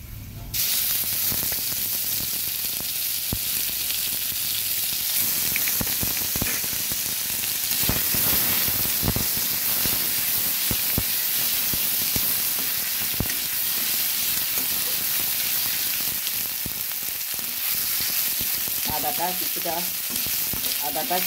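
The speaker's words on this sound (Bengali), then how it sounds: "পাঁচফোড়নটা কিছুটা ভাজা হয়ে আসলে দিয়ে দেব আদা বাটা।" Panch phoron and ginger paste fry in hot oil with a loud, steady, close sizzle that runs throughout, broken by occasional scraping stirs.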